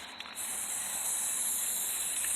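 Continuous steady hiss of an aerosol spray can painting a pumpkin carriage, a close and loud spray that holds on without a break after a short start.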